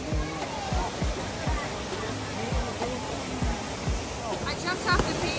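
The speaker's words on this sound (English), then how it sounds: "Here we are at the waterfalls." Waterfall on Maui, Hawaii, a steady broadband rush of falling water that stays loud and continuous throughout, with people talking over it.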